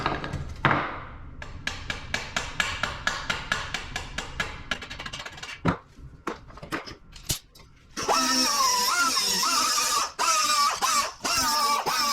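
A hammer taps sheet metal on a custom hood molding in a rapid run of sharp, ringing strikes, followed by a loud, steady, continuous mechanical noise.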